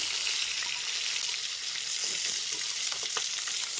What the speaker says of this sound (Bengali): একে একে সব মাছগুলোই ভেজে নিলাম এবার তুলে নিচ্ছি